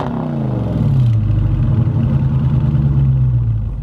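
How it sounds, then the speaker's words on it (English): A 2020 Dodge Charger Scat Pack's 6.4-liter V8 rumbles loud and close, revving up early then holding a steady, throaty drone on a rough, poorly paved road. "I really, really love the way that this V8 sounds"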